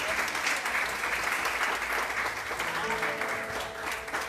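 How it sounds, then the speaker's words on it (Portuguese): A church congregation at a Sunday celebration service claps together in a sustained, even burst, with faint voices and a low musical tone running beneath the applause. "Aplauda o Senhor, amém?"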